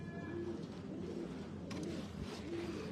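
Pigeons at a breeder's loft in Faisalabad, including a Teddy pigeon, coo in low, soft, repeated murmurs over a steady background hum, with no talk.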